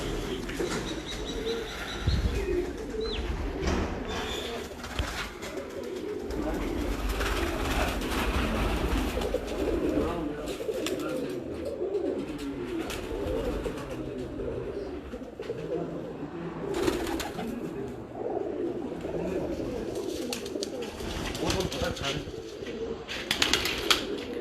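Breeder pigeons in Kasur coo and flutter continuously on a rooftop loft, layered soft rolling calls with occasional wing flaps and chirps, while someone talks intermittently over them.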